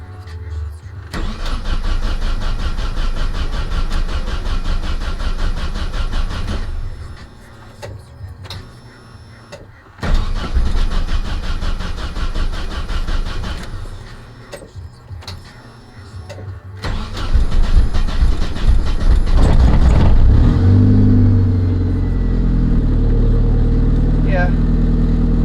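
A car with a rebuilt Nissan KA24DET engine cranks in long, even whirring bursts, pauses between tries, then catches and settles into a loud, low idle close by.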